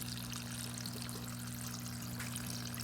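Water flowing steadily in a hydroponic system, a constant soft trickling pour from the tank line toward the filter, heard close over a steady low pump hum with no talking.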